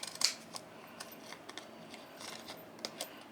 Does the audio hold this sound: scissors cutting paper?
yes